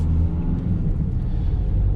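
A car pulls away from a parked position during a driving lesson, heard as a steady low engine rumble from inside the cabin with a slight rise as it moves off.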